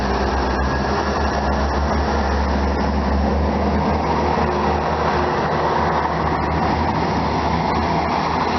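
Steady, loud rumble of a train moving through Honiton station, wheels and carriages clattering continuously with a deep low drone, close by and unbroken for the whole stretch.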